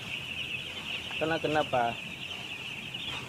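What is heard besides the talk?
broiler chickens clucking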